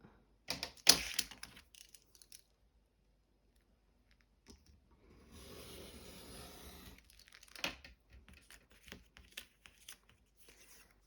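Paper being cut down for a collage: a sharp crisp burst near the start, a steady rustling stretch in the middle, then scattered light snips and crinkles, close and fairly quiet.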